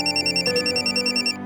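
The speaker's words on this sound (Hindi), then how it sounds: "उसके शौहर का फोन बजने लगा।" A phone rings with a steady electronic ringtone, pulsing quickly and evenly for about a second and a half, close and clear with no talk.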